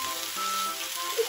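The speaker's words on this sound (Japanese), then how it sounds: "ジュージュー来た。" Steady, close sizzling of kimchi beef bowl frying with egg in a hot pan, a dense hiss throughout with a faint tonal whine in the background.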